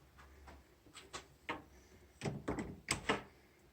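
A door in a flat is handled and closed, giving a series of faint, close knocks and clicks, a few sharper thuds and latch sounds spread unevenly over a few seconds in a quiet room.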